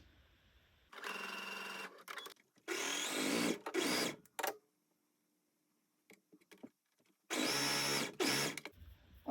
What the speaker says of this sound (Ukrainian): прошиваємо на швейній машині, потім на оверлоці